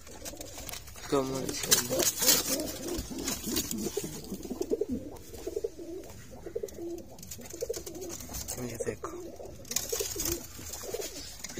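Pigeons coo in soft, repeated bursts close by, under someone talking throughout.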